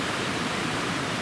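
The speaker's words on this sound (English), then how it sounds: "So this is Ouzel Creek." Ouzel Creek, a mountain stream on a day hike toward Mount Brewer, rushes with a steady, close, unbroken wash of flowing water and no voices.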